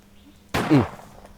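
One sharp, loud gunshot from a cowboy-style pistol in the Roblox game Edward the Man-Eating Train, a sudden burst that fades quickly, with faint background noise before it.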